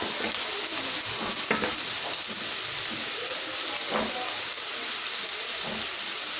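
Onions frying in a pan, a steady bright sizzle with a few soft scrapes and clicks throughout, no voices.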